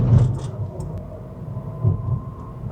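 A Honda Shuttle Hybrid X Style Edition (GP7, 2WD) climbs a mountain road, its low engine and road rumble steady and close with a couple of swells in loudness, no talk.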